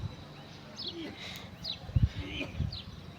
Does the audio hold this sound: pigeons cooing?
yes